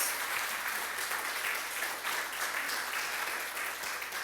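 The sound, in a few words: congregation applauding in praise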